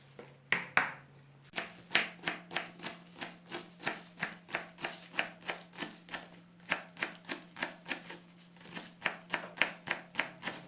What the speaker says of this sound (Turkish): Soğanlarımızı da aynı şekilde doğrayalım.